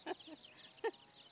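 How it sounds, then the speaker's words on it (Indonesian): Soft, faint clucks and peeps from chicks, a few short calls spaced apart in a quiet outdoor setting. "Ada anak ayam."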